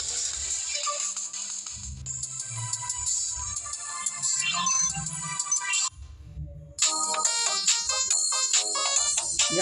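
A phone's message notification ringtone plays as a bright, musical electronic melody of repeated chiming notes, fairly loud and close, pausing briefly before starting again with no speech.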